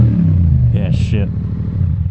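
A Yamaha MT-07 motorcycle engine rumbles close by at a steady idle, with a brief higher-pitched burst partway through as a voice speaks over it.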